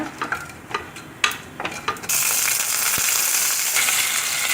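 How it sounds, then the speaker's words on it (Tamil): Mustard seeds and urad dal frying in hot sesame oil for milagai kuzhambu: scattered crackles and pops at first, then a loud, steady, close-up sizzle that continues to the end. "எண்ணெய் சூடானோன்னே நீங்கள் வந்து கடுகு உளுத்த பருப்பும் ஆட் பண்ணிக்கோங்க"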